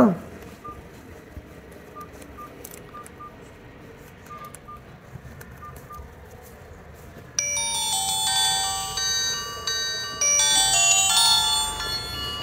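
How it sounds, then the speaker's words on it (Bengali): A GDL G35 mobile phone plays a ringtone, bright electronic beeping tones that start faint and then jump louder into a busier melodic pattern, heard alone. "ফোনটির রিংটোনের সাউন্ড কেমন ছিল"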